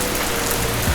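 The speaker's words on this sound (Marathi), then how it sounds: "बाहेर खूप जास्त पाऊस पडतोय, लाईक खूपच जास्त तुम्हाला आवाज लागतो" Heavy rain pouring outside, a dense and continuous broadband wash of noise that stays steady and fairly loud for the whole short stretch.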